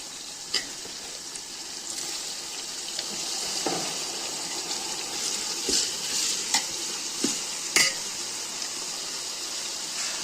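Tomatoes are stirred into a large pan of fried onions for chicken biryani, a steady close sizzle with scattered scraping and clinking of the spoon, and no talk.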